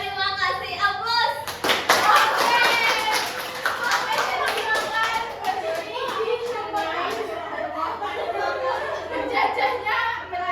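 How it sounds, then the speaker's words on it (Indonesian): A classroom audience gives applause after a group presentation, a burst of many hands clapping that begins abruptly and continues steadily, with children's voices chattering over and around it. "Terima kasih, aplaus."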